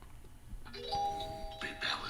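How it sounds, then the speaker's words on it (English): A short bright bell-like chime from a Nothing Phone 3 notification rings out once with a lingering tone, close and clear, preceded and followed by soft speech. "You can have a little notification like that. Just a little bell."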